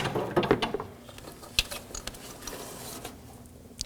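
Tensioner bolt on a 2013-2019 Nissan Sentra 1.8L L4 being removed with a T50 bit ratchet and by hand, heard as scattered metallic clicks, rattles and taps of varying loudness, close by.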